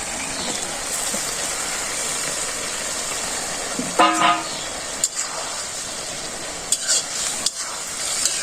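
Pumpkin curry fries with a continuous hiss, and cumin paste is added; a few sharp clanks of a spoon on the pan stand out near the middle and end.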